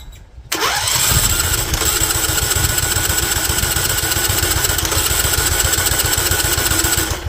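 John Deere L110 lawn tractor engine cranking: a brief quiet moment, then a loud, close, rhythmic chugging of the starter turning the small gas engine over, continuing steadily for several seconds.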